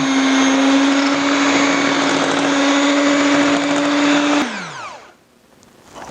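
An electric mixer blends white beans into a sugar and butter mixture for oatmeal chocolate chip cookie dough. It gives a loud, steady motor whir for several seconds, then winds down and stops, leaving near quiet.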